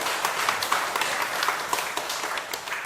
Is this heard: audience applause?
yes